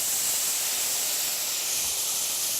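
White wine hitting a hot pan to deglaze it after cooking pork, a steady bright sizzling hiss that stays loud and even from start to finish.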